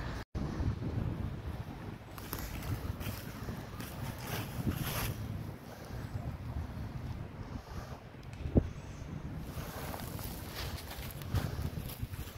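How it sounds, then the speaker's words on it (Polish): Steady wind roars across the microphone in broad, rushing gusts, loud and continuous throughout, with no voices. "jest bardzo zimny wiatr"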